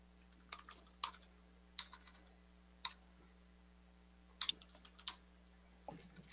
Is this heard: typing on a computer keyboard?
yes